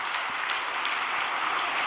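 An indoor congregation at a prayer retreat gives dense, continuous applause in blessing of a couple, many hands clapping steadily throughout.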